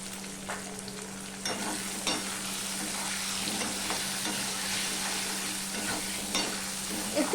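Hilsa fish pieces seasoned with turmeric and salt fry in hot oil, a continuous close sizzle with soft stirring scrapes and occasional pops, steady throughout with no talking.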